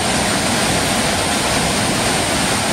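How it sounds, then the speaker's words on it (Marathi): Savatkada waterfall near Rajapur roars in a loud, steady, dense rush of falling water that fills the whole clip without a break, heard up close with no voices. "केवढा जोरात आवाज येतोय आणि हा प्रपात कोसळतो आहे"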